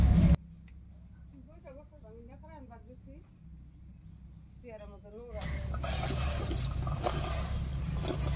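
Taro leaves go into a pot of boiling salted water on a stove, and a sudden burst of loud bubbling and hissing follows a woman's quiet speech and continues steadily to the end.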